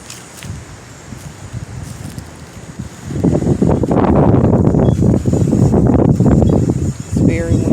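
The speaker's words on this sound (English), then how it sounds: "It's very windy after it was raining this morning." In a garden after morning rain, quiet at first, then strong wind gusts roar loudly across the microphone, rumbling and buffeting for several seconds before briefly easing.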